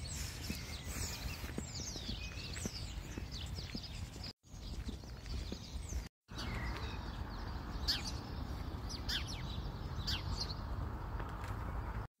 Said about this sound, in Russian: Уже эти птицы поют, да?